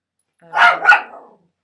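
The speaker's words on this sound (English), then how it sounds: "Sorry about the dogs, they're very naughty." A single short, loud bark-like dog sound with a double peak, close by and isolated in otherwise silent surroundings, lasting under a second.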